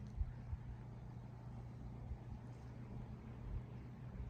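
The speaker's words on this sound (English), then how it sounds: "As soon as I say that, a noisy car goes by." A noisy car passes outdoors on a quiet property on a fine day, a steady low rumble of engine and road noise holding throughout at moderate distance, with no talk.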